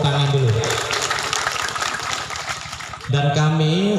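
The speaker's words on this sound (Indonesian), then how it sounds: "Tepuk tangan dulu." Applause from an audience at a deputy agriculture minister's working visit to a village, with steady clapping running for a few seconds between stretches of amplified speech.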